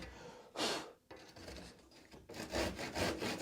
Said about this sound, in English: the saw's held up against your guiding block and you're sawing as vertically as you can judge.